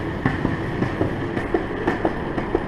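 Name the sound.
loose board rolling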